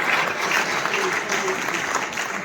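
A crowd at a Holi comedy poetry gathering in Kolkata breaks into sustained, even applause, a continuous hiss of many hands clapping at moderate distance for the full stretch, with talk faintly mixed in.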